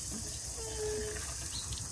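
Water poured from a pot into a bucket on a farm, a short continuous splashing gush, close and fairly loud, with a faint bird call in the background.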